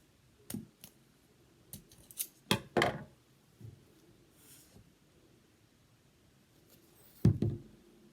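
Scissors snip twine on a small craft egg, a few sharp crisp cuts with brief rustles of handling between them, close and alone with no talk.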